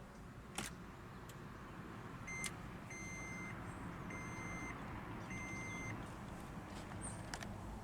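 Inside a 2012 Toyota Prius v Three hybrid, a push-button start brings a few clicks, then a series of soft, evenly spaced electronic chimes over a quiet cabin hum.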